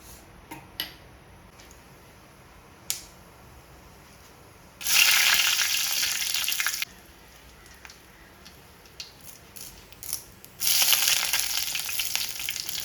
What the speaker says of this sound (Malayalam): ഇനി ഒരു പാത്രം അടുപ്പത്ത് വെച്ച് ചൂടാകുമ്പോൾ കുറച്ച് എണ്ണ ഒഴിച്ച് അതിൽ കടുകും കറിവേപ്പിലയും വറ്റൽമുളകും